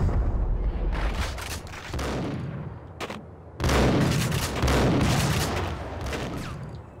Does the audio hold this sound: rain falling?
no